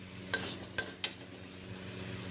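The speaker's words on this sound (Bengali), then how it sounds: "তো এবারে ভালো করে নেড়ে নেব, খুব বেশি নাড়বো না।" Eggplant and prawn curry being stirred in a pan, with three sharp metallic spoon scrapes and knocks in the first second over a faint steady sizzle.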